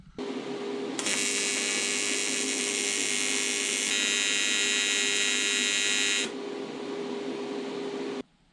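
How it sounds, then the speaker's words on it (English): Aluminum radiator mount being TIG welded for a Barracuda: a steady high-pitched electric buzz with a constant underlying hum, running unbroken for about five seconds after a softer hum, then dropping back before cutting off. "I'm just gonna keep struggling through it and go ahead and weld it on"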